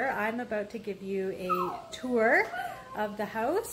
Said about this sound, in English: if you hear some whining in the background, that's a little wiener dog